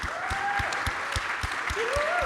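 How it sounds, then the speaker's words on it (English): Audience applause at a conference panel during a general assembly of authors' societies, with steady clapping broken by regular low thumps and a couple of faint sliding tones. "I think you deserve some applause, don't you?"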